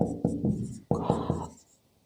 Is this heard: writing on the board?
yes